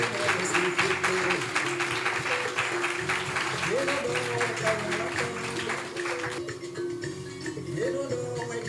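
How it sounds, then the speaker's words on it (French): An audience welcomes a guest with steady applause while music plays underneath, loud and continuous before thinning toward the end. "Aidez-moi à recevoir avec des applaudissements bien nourris Monsieur Marcel Padé"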